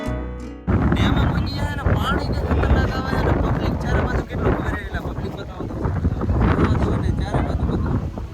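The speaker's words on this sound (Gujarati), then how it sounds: "પવન એટલો બધો આ બાજુ થાય ને તો એમ થાય ભૂરી ઉડી જાય છે, ઉડી જાય છે." Strong wind blowing at a full dam, roaring loud and continuous as it buffets the microphone throughout, with low rumbling gusts.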